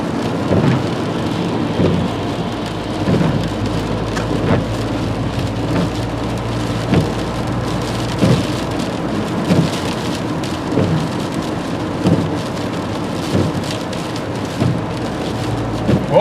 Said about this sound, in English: I would have preferred we didn't have this massive storm.